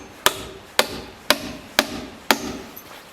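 Five evenly spaced, sharp hammer blows drive nails through wooden deck blocking into a beam on an A-frame cabin deck, each crack ringing briefly, close and loud.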